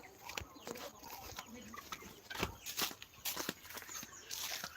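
Chickens cluck and rustle inside a poultry house on a farm, with scattered sharp calls and shuffling footsteps close by over a steady hum.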